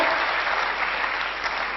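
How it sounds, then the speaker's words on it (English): Brief, dense clapping from a classroom audience during a value education lecture, a continuous even patter of many hands lasting under two seconds. "as you are giving claps, my seconds are reducing"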